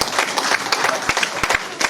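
A church congregation claps and cheers together, a dense, steady wash of applause with sharper individual claps popping through, fairly close and filling the whole moment.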